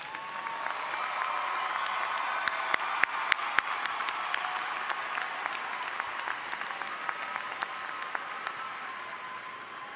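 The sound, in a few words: applause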